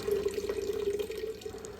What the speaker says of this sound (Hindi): हमने सोचा कि पानी भर कर रख लेते हैं बॉटल्स वगैरह में